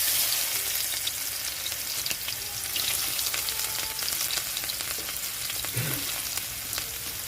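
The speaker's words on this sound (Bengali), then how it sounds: "তেলটা গরম হয়ে আছে তো এখানে আমি দিয়ে দিচ্ছি রসুন" Garlic sizzling and spitting steadily in hot oil left in the pan after frying fish heads, with a bay leaf; a dense, close, even crackle with faint stirring scrapes, no voices.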